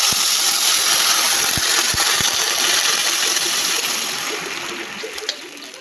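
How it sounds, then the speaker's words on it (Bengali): Cold water pours steadily into a pot of cooking moong dal, giving a loud, continuous rushing splash that gradually tapers off near the end. "আমি এবার জল দিয়ে দিব।"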